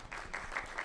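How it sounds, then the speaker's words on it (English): A small audience gives a light, scattered golf clap during a business presentation on cloud partner incentives, a soft, brief patter of a few hands lasting under a second. "That deserves a little bit of a golf clap"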